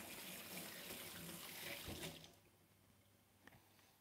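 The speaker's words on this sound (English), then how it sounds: "Let me just wash my hands." Tap water runs into a kitchen sink during handwashing, a steady hiss that cuts off about halfway through, leaving quiet room tone and a small clink.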